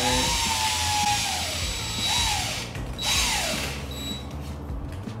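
A power drill whirs in a few short bursts as its chuck is tightened, its pitch rising and falling with each spin, close by with no talking.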